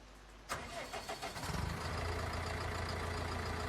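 A tractor engine in Farming Simulator 19 cranks with a click and several rapid starter pulses, then catches and settles into a steady, loud mid-pitched idle rumble.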